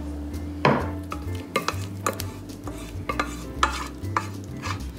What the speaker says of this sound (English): We're gonna go ahead and take our filling and put it into our pan,